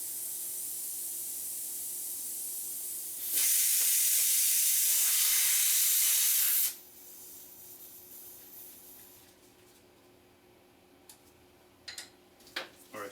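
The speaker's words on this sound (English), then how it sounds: "Alright, so we're gonna put more air in the tire." Compressed air hisses loudly into a Ford Edge tire for about three seconds, a bright close rush of air that cuts off abruptly, leaving quieter handling noises and a few light clicks.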